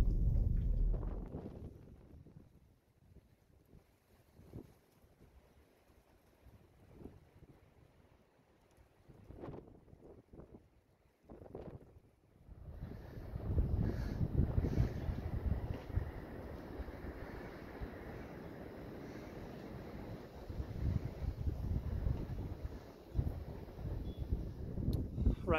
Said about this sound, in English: But man, it is so windy out today